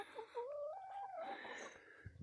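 Laying hens confined in their pen cluck and squawk close by, one rising, wavering call followed by softer clucks and a few light thumps.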